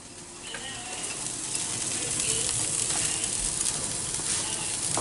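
Oil sizzling in a pan for kimbap fillings, a continuous close crackling hiss that grows slightly louder, with faint stirring scrapes and no talking.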